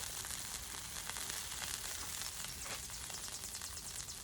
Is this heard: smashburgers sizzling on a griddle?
yes